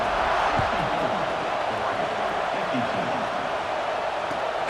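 Stadium crowd buzzing steadily at a college football game between Oregon and LSU, a dense continuous roar under a commentator's voice.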